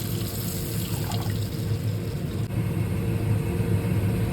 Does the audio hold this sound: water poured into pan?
yes